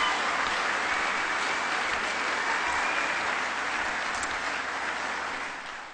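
Sustained audience applause fills a benefit event for North Memorial EMS ambulance crews, a dense steady wash of many hands clapping at an even loudness before tapering slightly at the end.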